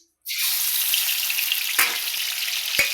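Masala for a spicy curry roasts in a pan, a loud hissing sizzle that bursts in after a brief silence and holds steady, with a couple of sharp spoon knocks against the pan.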